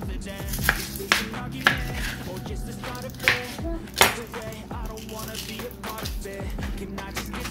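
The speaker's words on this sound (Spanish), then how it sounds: "Vamos a picar una cebolla." A knife chops an onion on a cutting board in a home kitchen, with several sharp, close knocks spaced unevenly over a soft background clatter.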